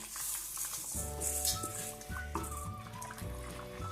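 Washed rice poured into a pan of vegetables and water for vermicelli fried rice: steady bubbling and sizzling, with a loud rushing pour and rattle as the grains go in, no voice.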